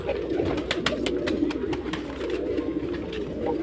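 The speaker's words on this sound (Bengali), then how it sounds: "আর বাচ্চা পায়রা দেখো, এখনো একদম চিচি বাচ্চা" Pigeons, among them a young chick, coo softly in a steady, low, rolling murmur with faint repeated pulses, fairly quiet and without any talk.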